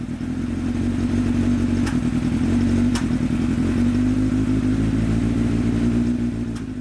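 A Kawasaki ZX7R motorcycle engine, freshly rebuilt, running steadily at a raised idle from an intake air leak at unseated carburetors, loud and close, with a few sharp clicks over the continuous rumble.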